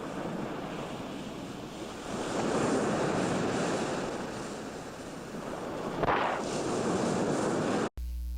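Ocean waves and surf in a movie scene, a continuous loud roar of breaking water with swells rising and falling, briefly surging near the end before cutting off abruptly.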